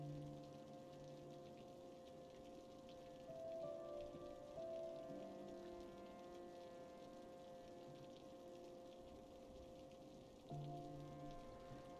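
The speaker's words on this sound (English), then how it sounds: "What a rainstorm, I know." Rainstorm in the city-building game Cities: Skylines, a soft continuous patter of rain heard quietly under faint steady tonal background music.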